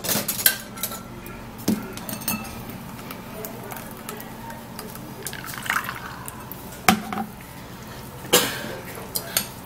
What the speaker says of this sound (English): I would love to sieve it into this bowl